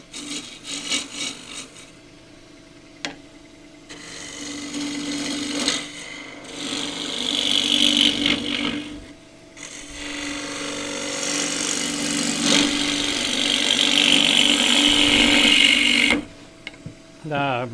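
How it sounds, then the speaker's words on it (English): A deep fluted bowl gouge cutting a very green photinia bowl on a wood lathe, producing sustained rasping, scraping cuts in several passes with brief pauses, loud and close. "So bowl gouge, deep fluted bowl gouge, using the wing first"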